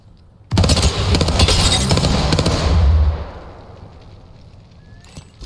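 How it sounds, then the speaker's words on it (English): A grenade explodes in Apex Legends, a loud, sudden blast followed by a sustained roar and crackle that fades over a few seconds into quieter game ambience. "Throw my grenade out."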